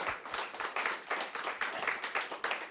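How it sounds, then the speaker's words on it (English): Audience applause at a Tullahoma band telethon, a modest crowd clapping in uneven bursts that swell and fade across a few seconds, moderately near, with faint talk underneath. "Let's give another round of applause for these two guys."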